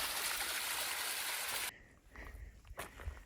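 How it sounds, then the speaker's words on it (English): Small waterfall on a hiking trail pours in a steady, fairly soft broadband rush, then cuts away to quieter outdoor sound with a few footsteps and rustles. "A little waterfall."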